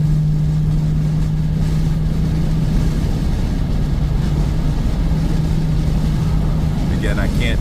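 A Mercedes CL63 drives on light, barely-there throttle, its steady low engine drone and road rumble continuous and close with a faint constant hum throughout.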